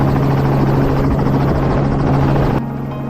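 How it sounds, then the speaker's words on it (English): A helicopter drones loudly and steadily with a rapid rotor thump, close and constant, cutting off abruptly near the end. "Helicopters appeared above the most heavily affected areas to conduct aerial surveys"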